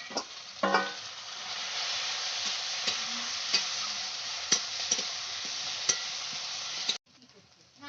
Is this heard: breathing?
no